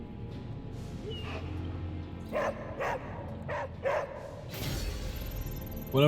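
A dog in the Marvel's Midnight Suns video game gives a series of short, separate barks spaced a half-second or so apart over a soft game ambience, ending with a brief higher yip.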